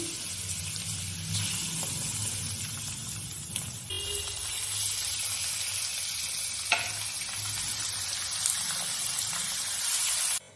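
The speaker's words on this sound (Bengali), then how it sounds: "পেঁয়াজের সাথে চিকেনটা একটু ভাজা ভাজা করে নেব" Chicken pieces frying with onions in a pan, a continuous close sizzle with occasional stirring scrapes and a brief clatter midway, no voices over it.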